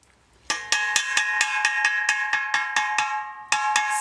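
A spanner taps on a metal pipe at a quick, even rate, roughly four bright ringing clinks per second with a metallic tone, close and clear, with no voices.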